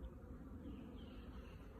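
A low, steady drone of many bees buzzing together around a hive box, constant and fairly quiet, with no voices.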